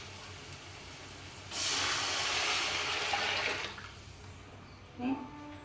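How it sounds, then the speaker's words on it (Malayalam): A rushing splash of water pours steadily for about two seconds, then fades, followed by a brief clatter; fairly close and moderately loud. "രണ്ട് പാട്ട വെള്ളം ഒഴിച്ചു കൊടുക്കാം"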